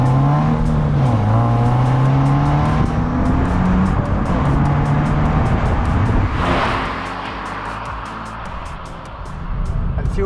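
A Subaru BRZ engine revs hard while driving, pitch climbing and shifting through gears close up, then easing off before building again, with a voice speaking over it.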